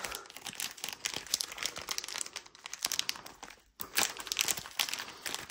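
Plastic packaging from a Magnaplate magnet kit crinkles and tears as it is pulled open by hand, a close, quiet run of rustling and crackling with one brief pause.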